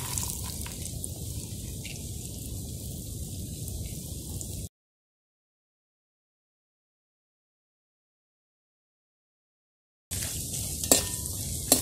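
Pieces of coconut frying in plenty of coconut oil give off a steady, close sizzle, with a gap of silence before the frying picks up again.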